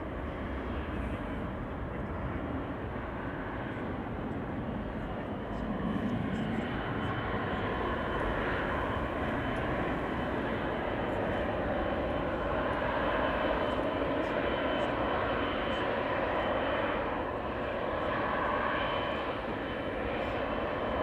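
A Garuda Indonesia airliner departs Amsterdam Schiphol bound for Jakarta, its jet engines giving a sustained broad roar that swells gently and stays strong for the whole stretch, without speech.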